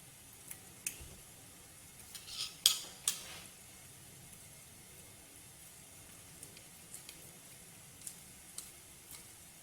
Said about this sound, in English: I'm going to chop the tarragon